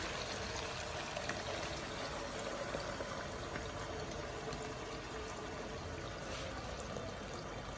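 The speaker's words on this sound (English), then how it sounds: "So I'm adding in the blended mixture." A thick blended pepper and onion mixture pours steadily into a pot, a soft, continuous wet rush heard quietly and close by.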